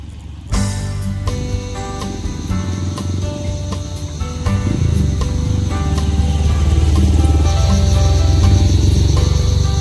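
A motorcycle rides across soft beach sand at a seaside campsite, its engine droning steadily and close, rising in intensity partway through as the wheels dig in, with no talking.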